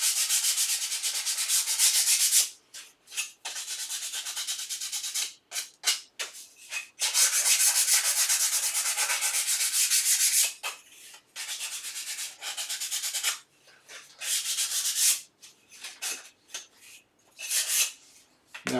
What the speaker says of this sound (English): I need this piece of sandpaper. So I'm just going to sand the furry edges off it.